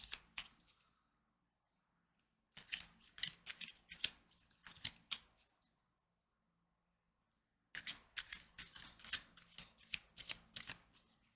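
Tarot cards are shuffled in quick riffling bursts, close and soft, in three separate rounds with short pauses between them.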